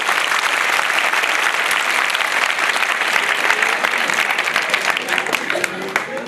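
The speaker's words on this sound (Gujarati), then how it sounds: "ખરેખર જોરદાર તાળીઓ થઈને વધાવો." Strong audience applause at a Gujarati comedy stage performance, loud sustained clapping from a large crowd that holds steady and thins slightly toward the end.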